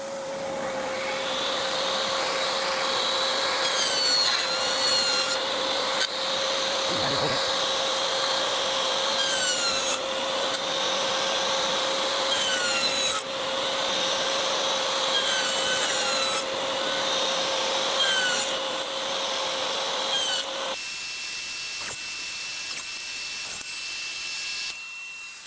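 A table saw pushes through a wooden circle blank, lopping off its corners in a string of loud, near cuts, each with a steady motor whine and a rising rasp of the blade biting wood, the run changing pitch near the end.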